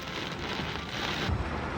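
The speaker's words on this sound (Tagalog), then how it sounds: "Pasado alas 5, bumuhos ulit ang malakas na pag-ulan." Heavy rain pouring in Metro Manila: a dense, steady hiss of rainfall on surfaces, fairly faint and continuous, with no voices.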